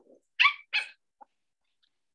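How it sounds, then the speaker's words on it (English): A puppy gives two sharp, close barks in quick succession after a faint low whine, then a brief yip and silence. "Stop barking."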